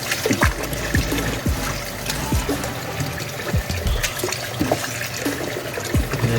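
Running water pours over turkey wings being washed, a continuous splashing trickle with scattered low thumps and knocks of the pieces being handled, close and fairly loud.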